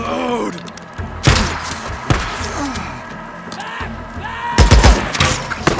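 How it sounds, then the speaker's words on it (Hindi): Shotgun blasts in the video game Days Gone: several heavy, booming shots spaced a second or more apart, with a close pair near the end, among game thuds and a groaning voice. "शॉटगन किसने मारी"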